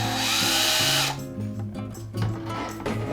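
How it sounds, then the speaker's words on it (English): A power drill whines loudly as it bores into a flashlight part, the motor pitch rising for about a second, then dropping into grinding, labored bursts as the bit bites in. "we're gonna drill, hopefully not through."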